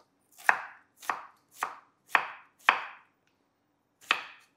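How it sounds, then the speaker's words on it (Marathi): A knife slices onions lengthwise on a board in six crisp, close strokes, five in an even rhythm and a last one after a short pause. "हे कांदे आपल्याला कापून घ्यायचे"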